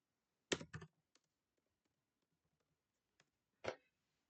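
A few quick bursts of computer keyboard clicks, then a pause and one last firm keystroke in an otherwise quiet room.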